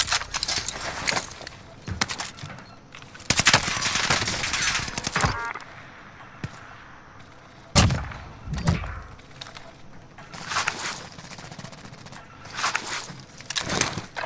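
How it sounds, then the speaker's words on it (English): Gunfire in a battle royale video game, with loud sharp shots and rapid bursts scattered across the clip, some close and cracking, others quieter, among faint background sounds. "I'm getting shot from somewhere"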